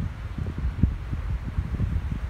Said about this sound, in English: We're getting gusts like this every now and again. Probably a bit of wind noise there.